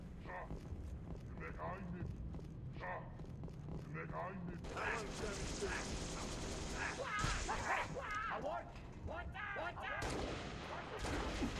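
A grenade bursts during a Halo Reach firefight, a heavy broadband blast amid steady gunfire and other combat noise, with someone talking over the action.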